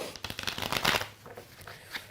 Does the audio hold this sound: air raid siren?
no